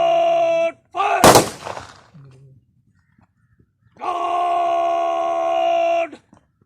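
A ceremonial gunfire salute fired on command at a martyr's funeral in Gujar Khan, one sharp loud volley burst between drawn-out, sung parade commands from a nearby voice.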